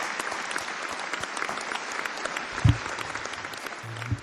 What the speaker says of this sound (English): Round of applause for Cinnamon and Branee.